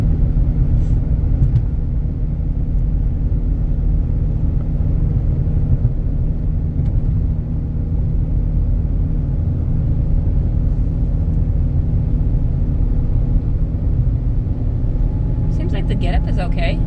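A 2009 Chevy Cobalt with a 2.2-litre four-cylinder engine hums steadily while driving, a constant low road and engine drone with faint rattles near the end, unchanging throughout.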